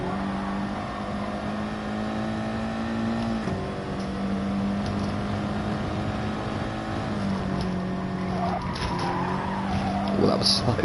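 Car tyres squealing through corners at Brands Hatch in a racing video game, a sustained whining skid layered over a droning engine tone that shifts pitch as the car brakes and accelerates, steady and fairly loud throughout.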